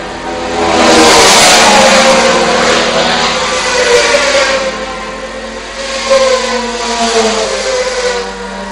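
Formula 3 class racing motorcycles at a Southern Downs road race blast past one after another, loud engines revving hard and whining with Doppler sweeps as they pass close and fade away.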